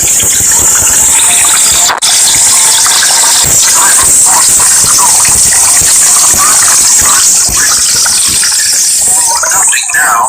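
Loud, unbroken gushing of thundering water in a Thomas & Friends toy train scene, a dense hissing roar that stays at full strength throughout with a couple of brief dips.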